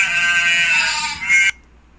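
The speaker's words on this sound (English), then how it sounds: "I spy something that makes the sound ba. If you guessed a sheep, you're absolutely right." A sheep bleats in one sustained, wavering cry that swells briefly before cutting off abruptly, followed by near silence.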